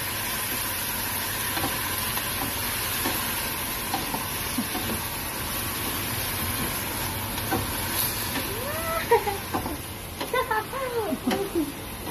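Chicken frying in a pot for tinola is stirred: a steady close sizzle with scraping and clattering of the spoon against the pot, while a voice speaks briefly.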